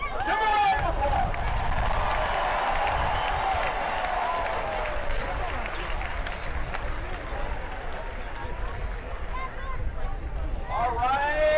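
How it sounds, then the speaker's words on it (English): A crowd applauds at the Baylor Bears national championship parade, with steady clapping and cheering mixed into a loud, constant outdoor crowd noise and babble that runs throughout, and a few shouts stand out. "Give them a round of applause."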